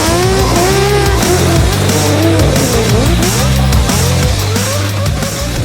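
Car drifting with Mad Mike, tires squealing in long sliding wails over a loud, constantly revving engine with shifting pitch, close and sustained throughout.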